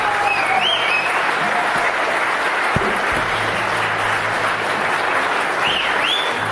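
Audience at a forum breaks into sustained, loud applause, a dense wash of clapping continuing throughout, with a few brief whistles and thumps mixed in.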